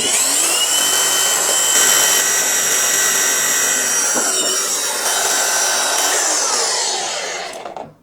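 A Dongcheng DCSP02-180Z cordless polisher runs at 3000 RPM with a loud, steady high-pitched motor whine that holds throughout, then begins winding down at the very end.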